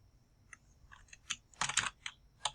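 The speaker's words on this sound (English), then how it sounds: "I'm going to press my Enter key." Computer keyboard keys click in a quick irregular burst of taps, with Shift held down and Enter pressed, close and crisp over a quiet background.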